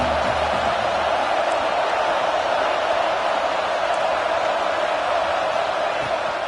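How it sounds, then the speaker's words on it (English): A big college football stadium crowd roars as a steady, dense wash of noise, loud and continuous with no single voice standing out. "this crowd trying to help keep them there"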